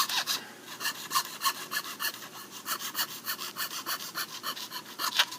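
Jeweler's saw cutting thin wood veneer for a double-bevel marquetry inlay, a quick steady rasping of close, even strokes repeating for several seconds, alone without talk.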